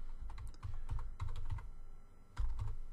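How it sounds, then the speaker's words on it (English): Typing on a computer keyboard to enter text into a lettering design program, a handful of quick, close, clicky keystrokes in short bursts with brief pauses between them, heard alone and fairly quiet. "If I wanted to, I could, for example, left click right here and just type in my last name."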